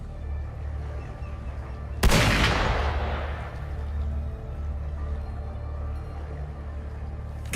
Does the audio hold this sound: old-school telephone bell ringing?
no